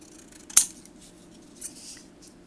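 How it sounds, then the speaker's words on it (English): Scissors snip about half an inch off paper for a handmade memory book: one crisp, close cut followed by faint rustling of the paper. "I think I'm just going to snip off about 1/2 inch."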